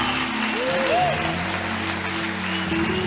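A church congregation applauds continuously, a steady wash of clapping heard throughout with a voice speaking over it.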